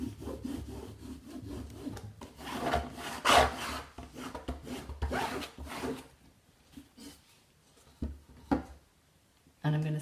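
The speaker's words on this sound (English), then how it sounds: "I'm going to turn it over and rub it from the back." Vinyl transfer rubbed onto a canvas from the back, a series of close, scratchy rubbing strokes that thin out into sparse scrapes and pauses.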